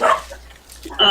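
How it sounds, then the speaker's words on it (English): A pet dog barks nearby in short sharp bursts, one at the start and another near the end, with a brief quiet gap between them. "That's my dog."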